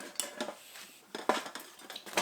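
A camping cooking kit and frying pan clink and rattle while being packed into a bag, producing several light metallic knocks and jangles in quick, irregular bursts at close range.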